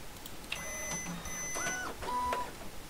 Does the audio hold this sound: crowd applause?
no